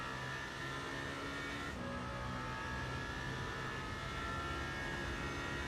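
A Toyota GR010 Le Mans hybrid race car runs at Monza, a steady engine drone with whining tones that shift as it brakes hard off the back straight, heard at constant loudness.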